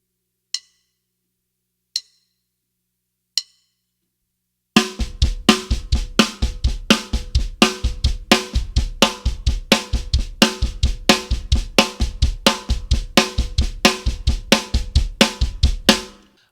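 A few sparse clicks counting in, then a steady, busy drum fill pattern of snare diddles with added bass drum hits and dense snare and cymbal strokes, played alone.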